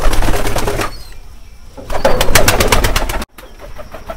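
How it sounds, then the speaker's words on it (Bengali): Pigeons outdoors in the rain, soft cooing calls with pattering and rustling around them, fairly close, with a few bursts of rapid bird noise and a brief cut near the end. "বৃষ্টির মধ্যে কবুতরগুলোকে বাইরে ছেড়ে দিয়েছি দেখেন।"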